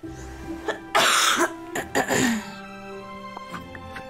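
A person with a cough clears their throat and coughs several times in close, loud bursts, with brief pauses between harsh, raspy fits and a quieter voiced sound near the end.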